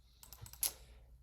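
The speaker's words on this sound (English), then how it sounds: "I gotta stop clicking so fast" Fast clicking at a computer, a quick run of light, close taps with one sharper click, faint and alone with no talk.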